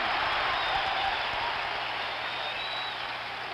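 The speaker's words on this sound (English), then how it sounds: "this crowd, a crowd that was spent, has come to life." A packed Fenway Park crowd roars after a game-tying three-run homer in Game 6 of the 1975 World Series against the Reds, a dense, sustained wall of cheering and clapping that holds steady throughout, easing slightly near the end.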